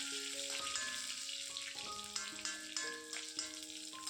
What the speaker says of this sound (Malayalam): ചട്ടറാത്തോട്ട് വെളിച്ചെണ്ണ ഒഴിച്ചു, കടുക് പൊട്ടിച്ച് ഉള്ളിയും കറിവേപ്പിലയും കൂടി വഴറ്റിയെടുക്കണേ.